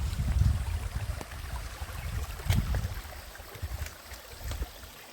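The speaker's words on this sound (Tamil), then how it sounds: "தண்ணி நல்லா ஃப்ளோ இருக்குது." A forest stream flows across the trail where walkers are about to cross, giving a steady close wash of water with low splashy rumbles and sparse brighter trickles, with no voices.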